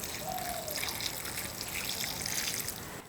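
Water being poured into a pan with turmeric, salt and sunflower oil, in preparation for cooking semiya. The pouring is a faint, steady trickle that runs unbroken for a few seconds, with no other sounds.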